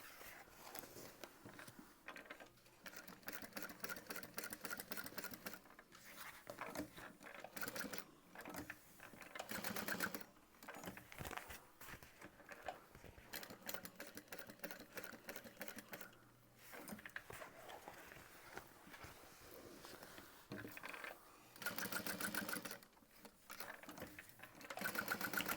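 A sewing machine stitches a quilted vinyl bag in steady rattling bursts, stopping and starting again with short pauses between runs. It is close by and clear, with no talking over it.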